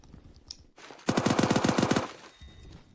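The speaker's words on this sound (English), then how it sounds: "What happens if we put that on something like the MG3KWS? It slows its fire rate down to 900." A rapid, sustained burst of suppressed machine-gun fire from an MG3KWS fitted with a muffler in the Phantom Forces video game, about a dozen close, evenly spaced shots at a fast rate after a short, quiet lead-in.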